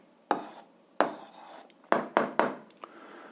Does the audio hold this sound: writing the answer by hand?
yes